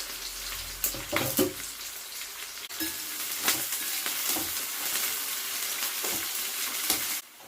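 Onions, green chillies and curry leaves fry in a pan for a banana curry, a steady crackling sizzle with a few louder stirring scrapes and clatters, close and alone without talk.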